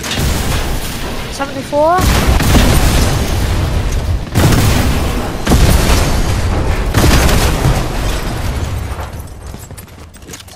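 Repeated heavy booms and blasts from a gas station being blown up in a video game, dense and loud for nearly the whole stretch, with a brief voice heard early on.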